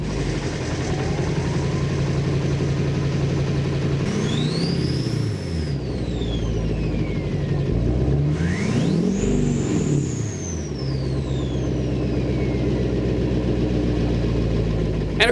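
A Duramax LBZ diesel truck engine fitted with a KC Stage 1 Vortex turbo runs close and loud, idling with a deep rumble and revving twice as a turbo whistle spools up and fades, with no talk.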